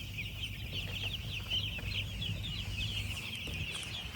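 Farm chickens in a village poultry shed cluck busily and continuously while eating and drinking, a dense chorus of small calls over a low, steady hum.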